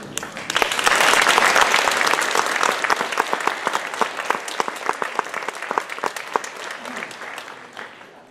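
An audience gives sustained applause for the final performance at the CCB Lollipops and Roses 2016 show. The dense clapping swells quickly, holds steady for several seconds, then thins out and fades.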